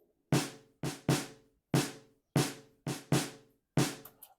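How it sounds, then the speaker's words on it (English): Eight punchy snare hits from an Afro House beat play alone in an irregular three-step pattern, each with a sharp crack and a short decaying tail, the later hits slightly longer and varying in strength. "And that snare sounds like this"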